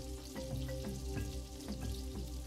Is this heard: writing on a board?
no